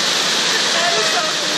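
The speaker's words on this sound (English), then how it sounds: "Waterfall!" A waterfall in the Kalash Valley, Chitral, roars in a dense, steady hiss of rushing water, close and loud, with no other sounds.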